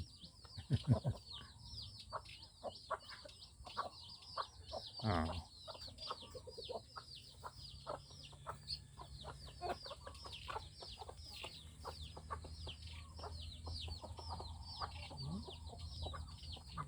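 Chickens clucking on a rural farm, with dense continuous chirping or insect-like calls in the background and occasional louder clucks and rustling, faint and spread out across the scene.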